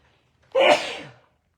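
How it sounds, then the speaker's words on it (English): A single sharp sneeze close to the microphone, bursting out suddenly and trailing off, with near silence before and after. "And I'm about to sneeze."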